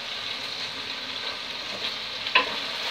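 Paio-style sausage fries in a pan with a steady, soft sizzle and one brief clatter near the end, close and even, no voices.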